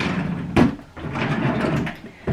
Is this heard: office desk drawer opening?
yes